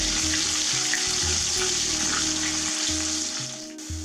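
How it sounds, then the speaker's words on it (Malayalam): Thinly sliced shallots fry in a pan of hot oil with crushed dried chillies, giving a loud, close, continuous sizzle and crackle that holds steady and eases slightly toward the end, with scattered low clunks and no voices. "ചുമന്നുള്ളി നന്നായിട്ട് മൂക്കണം"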